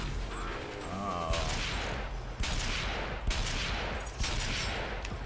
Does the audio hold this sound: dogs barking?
no